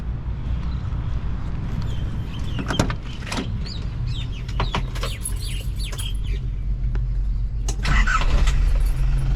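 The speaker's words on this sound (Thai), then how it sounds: "เดี๋ยว มาฟังเสียงเครื่อง กัน นะครับ" A used Nissan Big-M pickup truck with a red-top engine idles with a steady, low, even rumble throughout, while birds chirp intermittently in the background.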